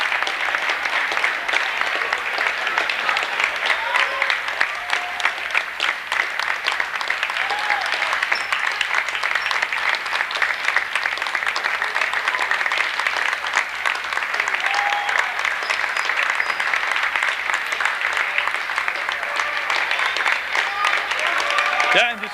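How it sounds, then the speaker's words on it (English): Sustained applause from spectators at a boys' sixth-grade CYO basketball championship game for Mater Christi, a dense steady clatter filling the gym throughout with no breaks. "just one continuous round of applause for Mater Christi"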